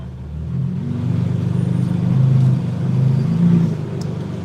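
A BMW E90 325xi idles with a deep, throaty rumble, a loud steady engine drone that swells slightly mid-way, with no talk over it.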